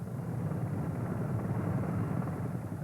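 A military attack helicopter such as an Apache or Cobra gives a steady, low, throbbing rotor and engine drone at moderate distance, heard alone and unbroken.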